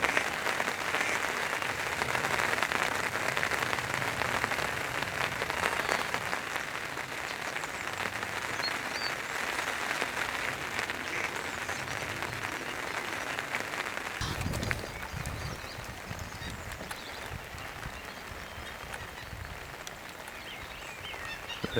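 Rain falls steadily at Furnace Lakes Fishery, a fishing lake in West Sussex, making a continuous broadband patter that is fairly close and even. Partway through, the texture shifts and some low rumbling handling noise appears.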